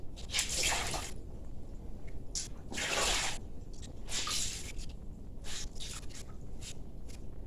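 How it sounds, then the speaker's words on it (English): Wet laundry squished and twisted by hand, with repeated squelching bursts and water dripping and splashing in between, close up and steady. "So I'm going to wring these out by hand."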